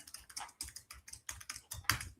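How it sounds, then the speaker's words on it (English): Fast, steady typing on a computer keyboard, close and fairly loud, with irregular clusters of key clicks and a sharper keystroke near the end; no talking over it. "I know you hear me typing away"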